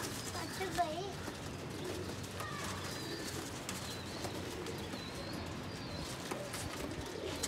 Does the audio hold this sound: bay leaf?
no